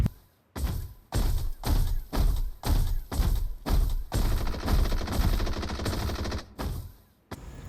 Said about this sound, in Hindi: पता नहीं किस पे गोली चला रहा है।